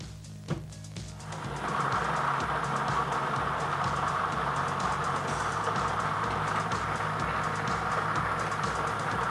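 Lotto drawing machine drum spinning and tumbling its load of 80 numbered balls before a 20-number draw, a steady loud rattling churn that starts after a brief quieter moment and continues without speech.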